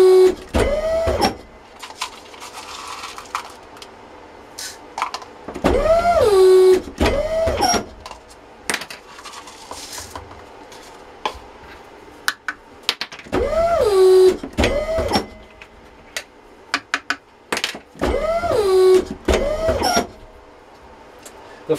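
A power press rams firework composition in half-inch increments into a 3/4-inch whistling girandola motor tube, giving repeated loud mechanical whirring strokes with rising-and-falling motor whine, separated by short pauses and clanks.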